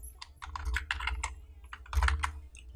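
Typing text on a computer keyboard, quick clusters of close, crisp key taps in an irregular rhythm with short pauses, alone without talk.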